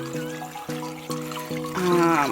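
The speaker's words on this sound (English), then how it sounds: "And now we are just going to fill it with some purified water." Purified water pours into a slow cooker for bone broth, a steady filling stream whose resonant tone climbs toward the end, heard alone and close.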